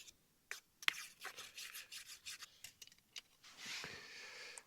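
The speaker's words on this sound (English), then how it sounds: "Let's scrape off all the fond." A utensil scrapes browned fond off the base of a Trangia 27 camping pan outdoors in the desert, a series of faint, short rasping strokes, some quicker and one sharper scrape, with quiet gaps between.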